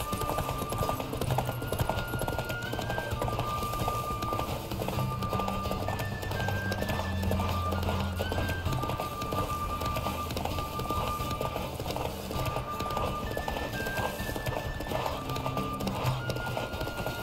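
A horse in The Witcher 3 gallops hard in a race, its quick, even hoofbeats sustained throughout under game music, with scattered neighs and little talk.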